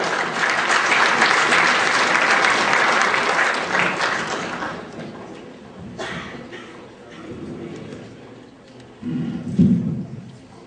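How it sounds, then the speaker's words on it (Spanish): An audience applauds loudly for several seconds, the clapping fading out, followed by quieter room noise and a brief burst of talk near the end. "Aplaudamos pues a la presencia de la doctora María del Carmen Ramón."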